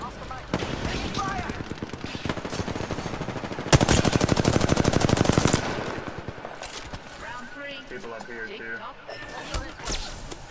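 Charge rifle fire in the Apex Legends video game, a dense burst of rapid loud rattling shots building to a sharp peak, heard amid chaotic gunfire with people talking over it.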